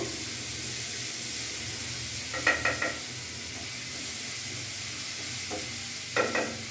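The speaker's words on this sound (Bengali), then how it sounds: "পেঁয়াজটা একটু ভাজা ভাজা করে নেবো" Onions frying in oil in a pan, a steady sizzle and hiss, with a few short scraping stirs near the middle and end; no voices.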